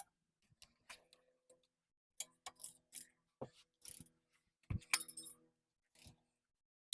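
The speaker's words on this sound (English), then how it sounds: "So we're just gonna tighten them." A ratchet wrench clicks in uneven short runs while tightening brake caliper bracket bolts on a Toyota Camry, with faint metallic taps and clinks between the bursts, close and fairly quiet.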